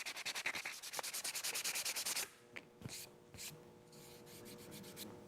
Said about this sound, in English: And I can sand it now as if it were one piece of plastic.